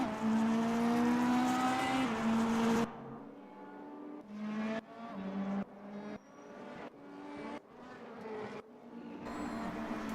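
Race car engine at full throttle, a loud rising whine that cuts off abruptly, then returns as a series of sharp, rhythmic bursts through upshifts and corners.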